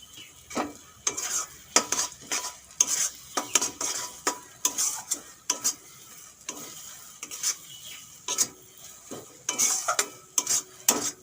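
Mashed lubia bean paste is stirred in a pan with repeated scraping and clinking strokes of a utensil, irregular bursts over a quiet background, with no talking.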